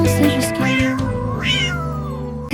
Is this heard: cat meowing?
yes